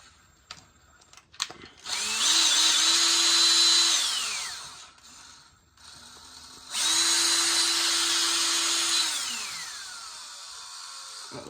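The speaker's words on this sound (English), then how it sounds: "I'll take the drill, screw them in enough" A power drill drives screws into a Traxxas 4-Tec RC car in two sustained whirring runs, each winding down at the end, with small handling clicks before them.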